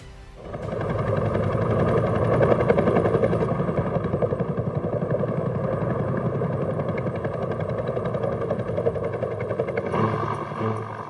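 Bell UH-1 Iroquois Huey helicopter, a steady dense rotor thump and turbine roar held loud and close throughout, easing slightly near the end.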